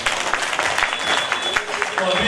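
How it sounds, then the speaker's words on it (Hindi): An audience claps together at a devotional gathering staging a tableau of the nine goddesses and twelve jyotirlingas, a dense steady patter of many hands with a murmuring crowd underneath. "वह ताली बजाओ अपने लिए।"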